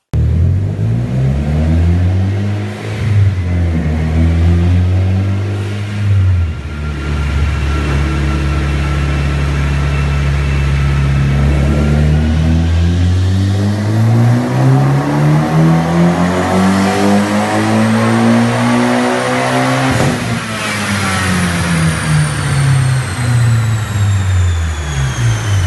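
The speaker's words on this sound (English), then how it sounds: "This is a dyno run I did a few years ago" A Mitsubishi Evo X with bolt-on modifications and a tune revs hard on a dyno, its engine note climbing and falling through repeated pulls, loud and close, with no talking.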